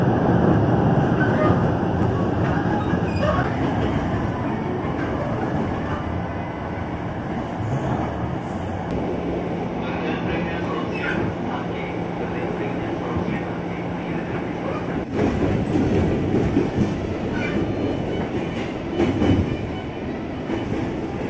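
A Jakarta Commuter Line train runs along an elevated track at night, heard from inside as a continuous loud rumble with rhythmic wheel clatter and occasional squeal, some talking faintly mixed in.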